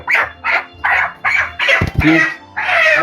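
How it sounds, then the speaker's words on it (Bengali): A large chicken, around three kilos, gives a run of loud, close clucks and squawks in an even rhythm of short repeated calls. "এই দেখো পাপিয়া, আজকে মুরগিটা বেশ বড় মুরগি পেয়েছি, দেখো।"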